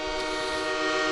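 A loud, sustained train horn blast played as a sound effect, a steady chord of stacked tones holding at full strength for about a second with no talk over it.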